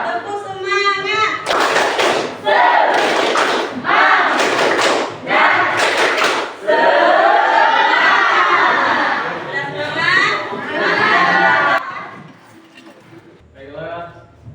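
Children in a classroom perform a tepuk semangat spirit chant, loud rhythmic bursts of clapping and thumping mixed with shouted chanting voices, ending with a short spoken voice.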